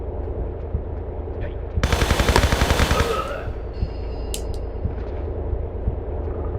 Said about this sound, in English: I'm going to actually take out my M16 and lay waste to some guys